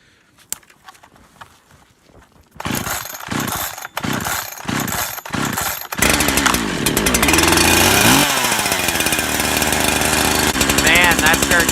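Holzfforma G372XP chainsaw, a Husqvarna 372XP clone, being pull-started outdoors in poor weather: a few quiet rustles, then sputtering catches and short bursts before it settles into a loud, steady high-revving run, close up.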